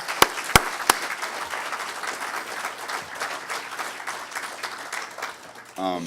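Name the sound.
conference attendees applauding sponsors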